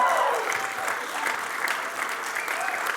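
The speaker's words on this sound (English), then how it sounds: "So please keep your round of applause going for Auntie Daphne." Audience applause fills a hall at the Victorian Aboriginal Honour Roll ceremony after an induction. The clapping is steady and sustained throughout, with no voices standing out.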